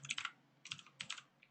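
Typing on a computer keyboard: three quick bursts of crisp, clicky keystrokes with short pauses between them, close and quiet, with no voice.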